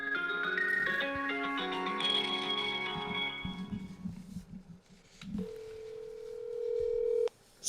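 Telephone keypad tones beep in a quick sequence of pitched notes for a phone call, followed by a steady ringback tone near the end, with faint background murmur.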